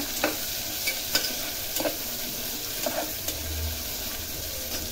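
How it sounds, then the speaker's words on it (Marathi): Onion sautés in oil in a pan, a constant close sizzle with periodic scrapes and taps as it is stirred, roughly once a second, and a low rumble near the end. "कांदा जोपर्यंत लाल होत नाही तोपर्यंत आपल्याला त्याला परतून घ्यायचं आहे।"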